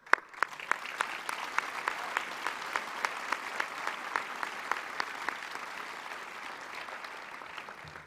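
A seated convocation audience claps for graduates, a fairly quiet, sparse but steady applause with distinct individual claps standing out throughout, no voices over it.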